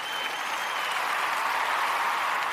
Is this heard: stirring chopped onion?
no